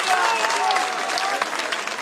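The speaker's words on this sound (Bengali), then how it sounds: "একটা জোরদার হাততালি হয়ে যাক।" Applause from a crowd at an outdoor political party rally in a Kolkata park, a dense, steady clapping that carries at a fairly loud level through the whole moment without pause.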